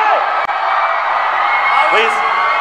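A convention crowd at a Spider-Man: Far From Home panel with Tom Holland and Jake Gyllenhaal shouts and cheers in a loud, sustained roar of whoops and yells, with a host's amplified voice over it.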